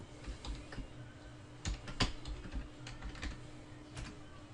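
Computer keyboard arrow keys pressed in a series of light, close clicks with irregular rhythm, a few sharper taps standing out, used to move around a 3D scene while setting up portrait lighting.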